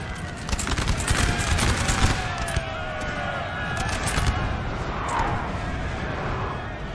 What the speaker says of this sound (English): the artillery now firing two different spots